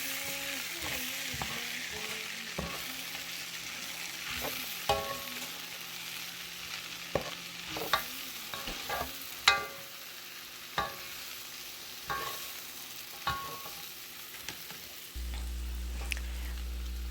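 Frying vegetables for shrimp and crawfish étouffée, with Tony Chachere's Cajun seasoning stirred in, give a steady close hiss of sizzling broken by regular clinks and scrapes of a spoon against the pot, with no voices.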